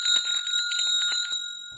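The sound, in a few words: bell being rung to call a servant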